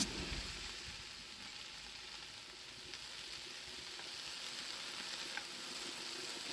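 Vegetables sautéing in a pan to caramelize lightly for a spicy chicken dish with pepper sauce, giving a steady, moderately quiet broadband sizzle that runs throughout with no talking.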